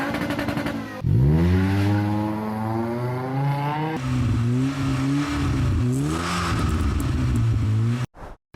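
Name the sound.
Volvo S40 car with custom exhaust revving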